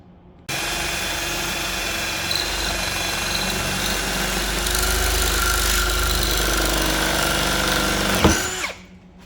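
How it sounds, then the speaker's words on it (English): A drill bores a 3/8 hole through a flattened copper tube cable lug for an engine ground on a 2006 Chevy Suburban, a steady whining buzz starting abruptly, running about eight seconds, then winding down. "Now I'm just going to go ahead and drill the hole."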